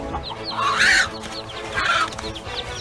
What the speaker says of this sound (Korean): 그러니까 저 독수리 못 오게 막 얼마 콕콕콕콕 짖는지 몰라요.